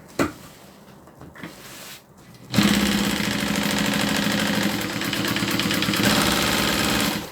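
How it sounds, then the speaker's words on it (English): Sewing machine stitching through six layers of fabric and cotton batting, starting after a couple of soft knocks and running as a steady close mechanical whir to the end. "I'm just going to stitch around where I drew my pattern."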